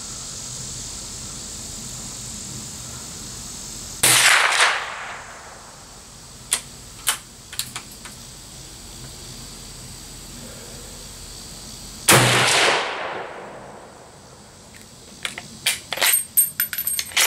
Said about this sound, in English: I'm just shooting to shoot.